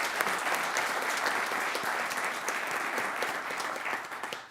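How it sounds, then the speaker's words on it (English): Steady applause from an audience at a county commission meeting, honoring an Office of Public Safety Support database manager; dense, even clapping that holds for several seconds before tapering. "So if we could give her a round of applause."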